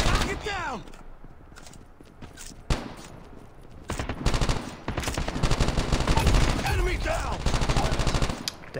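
The Type 25 rifle in Call of Duty Mobile fires rapid automatic bursts, loud and sharp, with scattered shots and game effects, quieter at first and building to dense sustained fire in the second half.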